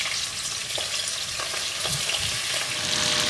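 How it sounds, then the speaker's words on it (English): Beef cubes browning in hot bacon fat in a pan for beef bourguignon, a steady loud sizzle and crackle with occasional sharper pops, heard alone without talk. "now let's use that beautiful bacon fat to brown each of those cubes of meat"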